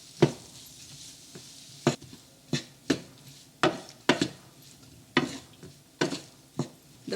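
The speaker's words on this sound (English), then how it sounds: "Now let's mix this up and let all the flavors blend together" Spoon scraping and clinking in a pan of potato and vegetable filling for puff pastry patties, about a dozen sharp strokes at an uneven pace over a faint sizzle, with no voices.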